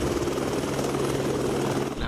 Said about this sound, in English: Helicopter SO1 is making a low approach to the bypass canal for some Bambi Bucket exercises